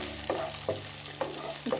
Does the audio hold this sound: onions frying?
yes